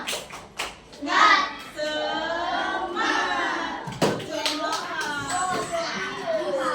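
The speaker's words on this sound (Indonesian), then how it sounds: "gimana kalau kita tepuk semangat bersama-sama?" A school class of children clap and chant a rhythmic spirit cheer together in a classroom, bursts of clapping and young voices shouting in unison, with a teacher's voice leading between the rounds.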